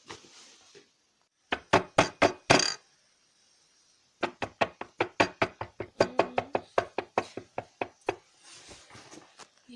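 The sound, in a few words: knocking on a door at night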